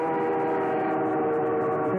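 A CP SD40 diesel locomotive hauls a freight train past, a steady, loud engine drone with sustained tonal hum holding evenly throughout at close range.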